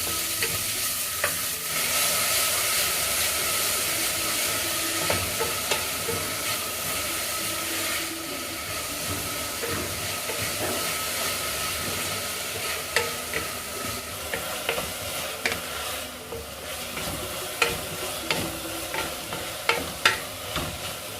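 Chopped onion, curry leaves and green chilli sizzle in hot oil for a Kerala-style squid roast, a continuous close frying hiss broken by stirring scrapes and sharp clicks of a spoon against the pan, growing more frequent near the end.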